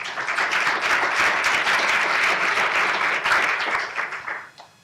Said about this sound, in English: Let's give a big round of applause to our presenting sponsor,